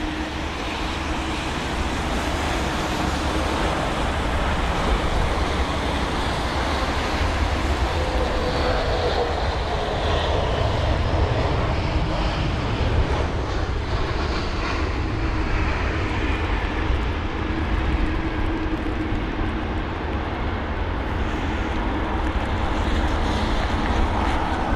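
An airliner on approach to London Heathrow during Storm Henk, a loud, continuous engine roar mixed with heavy wind rumble that stays steady for the whole stretch, with no talk over it.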